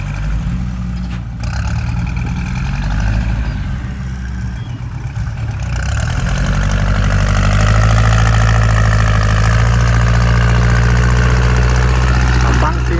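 A tractor with a modified loud exhaust pipe drones steadily while ploughing a rice field, a heavy low rumble that grows louder and fuller partway through and holds close and constant.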